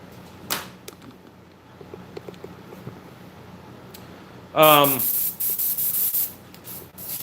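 An airbrush blasting carburetor cleaner in a workshop, with a sudden loud hissing spray that cuts in and out in several bursts after a few quieter taps and clicks.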